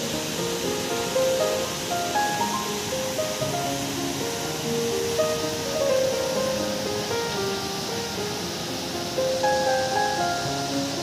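Payyanikkotta waterfall on the Payyani river in Kerala, a steady, dense rushing roar of falling water that holds constant throughout, with no voices.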